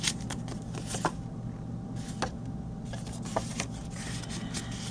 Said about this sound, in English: it has fold out pages, so they fold out like this